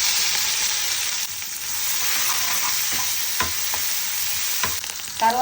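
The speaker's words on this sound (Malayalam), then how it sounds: "ചെറിയ ഉള്ളി ചതച്ചിട്ടാണ് താളിക്കുന്നല്ലേ" Crushed shallots tempering in hot oil in a pan for a South Indian curry sizzle loudly and steadily at close range, with brief scraping stirs near the end.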